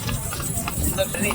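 Horse hooves clip-clop at a steady trot during a paid horse ride on a trip toward Shirdi, close by, with voices talking over the hoofbeats.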